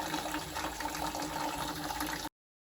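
Water is pumped out of a 44-gallon drum into a container: a steady close gushing, filling rush that runs unbroken on its own, then cuts off abruptly.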